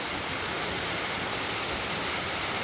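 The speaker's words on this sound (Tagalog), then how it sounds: "Ganda ng musiko ng tubig." Steady, broadband rush of falling water over rocks, constant and unbroken, a waterfall in Suan Phueng, Thailand, heard up close.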